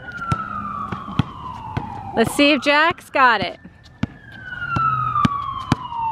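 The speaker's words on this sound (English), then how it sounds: "There's an ambulance coming in here." A wailing ambulance siren sweeps slowly up and down in the distance, steady throughout, while someone talks briefly and sharp thuds pop now and then.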